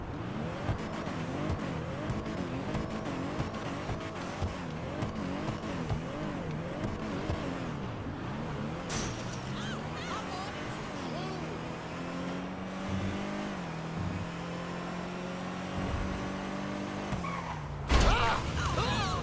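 Annis Minimus car engine in the video game GTA Online, revving and accelerating through gear changes with a rising and falling pitch, plus a brief tire squeal and a bump near the end, with someone talking over it.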